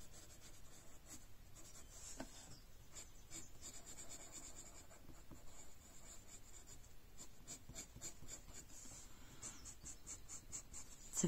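A Prismacolor colourless blender pencil rubs back and forth in several directions over a drawing of hair, making soft, faint, continuous scratchy strokes in quick rhythmic bursts.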